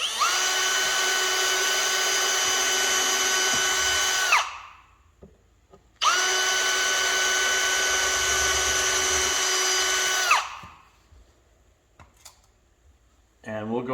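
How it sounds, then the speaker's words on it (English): A power drill boring holes in a door whines loudly in two long steady bursts of about four seconds each, separated by a short pause, then quiet with faint handling clicks. "Now we will go ahead and drill our new holes."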